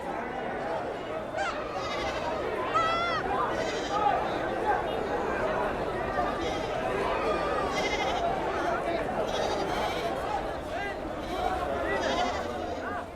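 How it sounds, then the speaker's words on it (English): Goats and sheep bleat repeatedly at a busy Friday goat market in Oman, many calls near and far over a crowd's murmur and chatter. "The city is well known for its Friday goat market."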